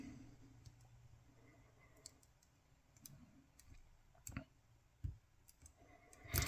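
A Mul-T-Lock C16 padlock being picked with a Nigbee dimple pick, faint sparse metallic clicks and taps close up that grow slightly louder toward the end, no talk.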